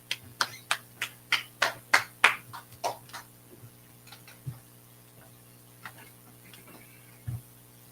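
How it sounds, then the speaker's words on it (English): A handful of sharp claps ring out in a quick, even run, then thin to a few scattered claps spaced out over a quiet background. "All right, clap it up."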